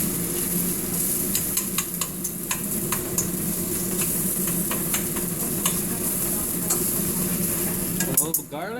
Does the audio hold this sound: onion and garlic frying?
yes